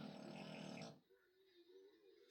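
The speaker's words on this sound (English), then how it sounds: "I'm sorry about my dog, by the way, but he just can't help but he loves snoring." A single drawn-out snore, rough and nasal, fades into quiet wheezy breathing; close and soft, with a faint click at the end.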